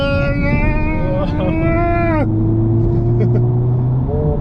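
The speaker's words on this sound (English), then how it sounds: "you can hear it blip the throttle each time you're adjusting" 2024 Honda Civic Type R engine under a steady cabin drone, its pitch climbing in a quick throttle blip that drops off sharply, a rev-matched downshift heard from inside the car with people talking over it.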